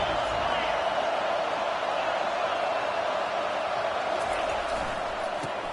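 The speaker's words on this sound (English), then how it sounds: "Listen to this crowd just shaking the girders of this place," A dense, steady roar from a packed stadium crowd at an Oregon versus Michigan football game. The noise holds at a constant level with no breaks, with a commentator speaking over it.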